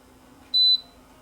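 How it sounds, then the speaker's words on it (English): A single short electronic beep from a DREO tower fan's control panel, a clean high tone lasting about a quarter second against quiet fan background. "You can also turn on and off the beep."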